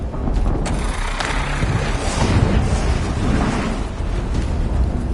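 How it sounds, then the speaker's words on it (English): A big, rumbling explosion in Horizon Zero Dawn rolls on for several seconds as a loud, sustained roar with scattered crackles and debris bursts. "An explosion."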